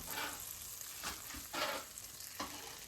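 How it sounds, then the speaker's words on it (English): Butter and a little oil melt in a frying pan with a faint, hissing sizzle and a few soft swells, quiet and close. "So I'm melting butter and added a little bit of oil to it."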